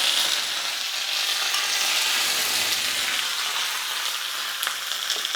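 Mustard seeds and curry leaves tempering in hot oil for a chutney, a steady, loud, continuous sizzle and crackle close by with a few sharper pops near the end, no voices.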